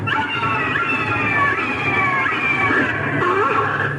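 A cat meows and caterwauls repeatedly in long drawn-out cries, loud and close over faint background noise.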